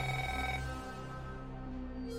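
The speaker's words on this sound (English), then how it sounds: "Cell phone's ringing." A cell phone ringing in the video game Neofeud, a steady electronic ring with one tone change partway through, loud and close with no voices over it.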